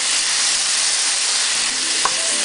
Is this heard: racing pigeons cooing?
no